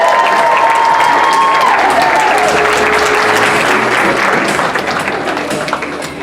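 Guests at a wedding reception applaud and cheer for the couple. The clapping is loud and sustained, with crowd noise and a few whistle-like tones near the start, and it fades slightly toward the end.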